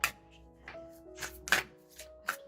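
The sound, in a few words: oracle cards being shuffled for a reading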